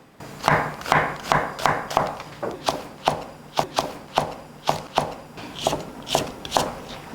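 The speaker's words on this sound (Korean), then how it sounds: "양파를 곱게 한번 채를 쓸겠습니다." A knife slices onion into thin strips on a cutting board while braised pomfret is being prepared, giving about fourteen crisp, fairly regular chops that land close and clear with no talk.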